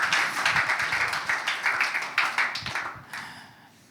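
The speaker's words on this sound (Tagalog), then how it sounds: "Sige po, malakas sa palakpak para sa Kanya." Church congregation applauding for the Lord during a Sunday worship service, a steady crackle of many hands clapping that carries on for several seconds, then thins and fades toward the end.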